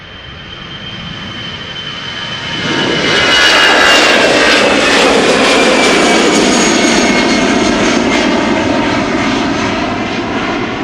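An older Airbus A319 or A320 jet passing at Schiphol Airport, its engine roar swelling sharply after a couple of seconds and holding as a loud, broad rush with a faint high whine across the rest.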